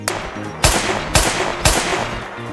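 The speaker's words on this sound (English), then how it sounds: "I got a revolver, and it shoots!" Three sharp revolver shots from a Gorilla Tag mod in a video game, fired at an even pace about half a second apart, each a loud crack with a short ringing tail over low background hum.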